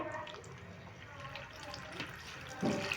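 Grape pulp frying in hot oil makes a quiet, bubbly sizzle with a brief louder spatter near the end, and a voice talks over it.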